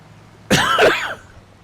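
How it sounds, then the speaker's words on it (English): A single close, harsh cough with some throat clearing breaks a quiet background, lasting about half a second. "I apologize for the coughing."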